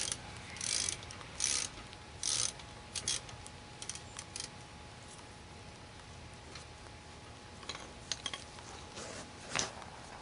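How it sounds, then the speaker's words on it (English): A ratchet loosening the top and bottom brake caliper bolts on a Ford Taurus during a front brake pad job, with quick bursts of clicking pawl strokes in irregular spurts, close and fairly quiet, and no speech. "take the top and bottom bolts off that hold the caliper together"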